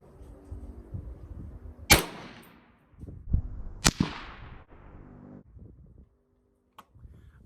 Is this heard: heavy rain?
no